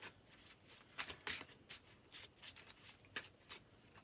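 A deck of cards shuffled and cut by hand, a quick run of crisp riffling bursts and soft slaps close by, irregular in rhythm, with no talking.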